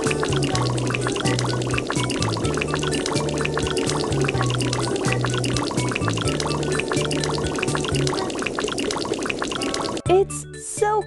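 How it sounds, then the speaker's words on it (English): Water pours steadily onto a bike being rinsed at a car wash, a continuous splashing gush with a low repeating tone that stops near the end, where a brief voice is heard. "It's time to rinse off the bike."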